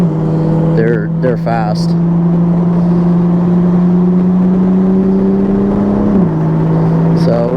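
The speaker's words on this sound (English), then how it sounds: "we're gonna let the two Miatas go by us" Engine drone on a racetrack as two Mazda Miatas pass a Toyota A90 Supra, a steady loud hum rising slightly in pitch then dropping near the end, with someone speaking briefly over it.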